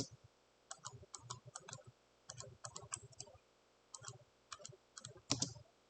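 Bursts of crisp computer keyboard keystrokes come in quick clusters separated by short pauses, close and clear against a quiet background, ending with a slightly louder tap.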